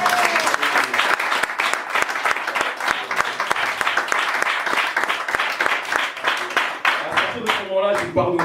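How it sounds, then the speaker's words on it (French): A church congregation applauds with dense, steady clapping that fills the space, sustained loudly for several seconds before tapering as a voice begins to speak at the end. "Est-ce qu'on peut acclamer le Seigneur?"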